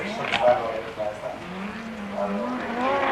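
A turbocharged five-cylinder Audi Quattro S1 rally car engine roars at the 1988 Race of Champions, its pitch climbing as it accelerates, with a voice speaking over it.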